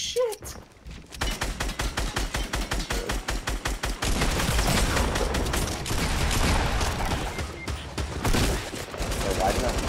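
Video game gunfire from a sniping match, first as a long, steady run of rapid automatic shots and then as a denser, chaotic barrage with overlapping bursts. Excited players talk over it.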